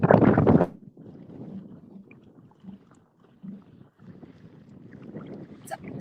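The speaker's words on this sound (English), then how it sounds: "It's kind of windy out here." Gusty wind buffeting a microphone outdoors on a lake during a kayak bass fishing tournament, with a loud burst at the start followed by low, uneven rumbling gusts.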